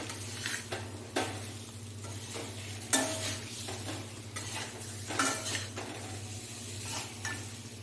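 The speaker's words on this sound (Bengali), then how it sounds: "দিয়ে ভালো করে মশলার সাথে আমি আলুগুলো কষিয়ে নেব" Potatoes being stirred and sautéed with spices in a pan, with a steady low sizzle under repeated scraping and clinking from a utensil against the pan, occasional louder knocks. No talking.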